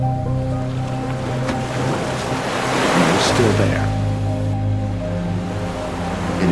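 Ocean waves on the rugged Oregon coast near the haystack rocks, a continuous loud wash of surf with a swelling surge midway, mixed with low engine-like hum and wind noise; a voice speaks briefly.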